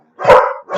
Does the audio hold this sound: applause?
no